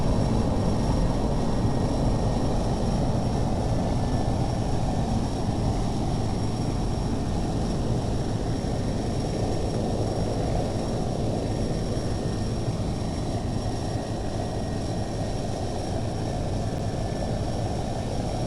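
A propeller plane engine in the Fly! 2K flight simulator game drones steadily and loudly throughout, alone, with a constant whine riding over the broad roar.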